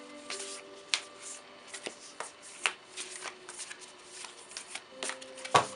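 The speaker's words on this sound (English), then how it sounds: "let me shuffle these here" Tarot cards being shuffled by hand in a quiet room, a steady run of soft riffling and flicking with sharper card snaps scattered throughout, close and alone.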